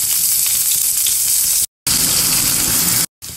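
Onions frying in a pan with bay leaf and cumin for chole curry, a loud, dense, close sizzle that cuts out abruptly twice for short silent gaps.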